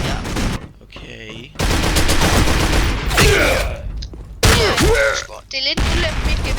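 Rifle fire in a video game: loud, close bursts of shots in rapid runs, broken by short pauses, with players talking between and over the shooting.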